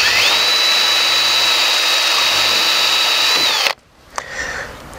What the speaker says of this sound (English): I'm going to just drill this out because this is a mistake.